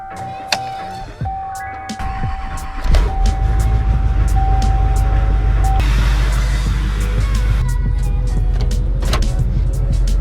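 A truck starts up and then runs steadily, its loud low engine rumble continuous under a few sharp clicks and knocks; a chime sounds repeatedly during the first few seconds.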